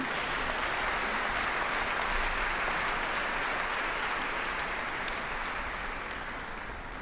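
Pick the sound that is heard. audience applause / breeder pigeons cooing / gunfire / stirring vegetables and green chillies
audience applause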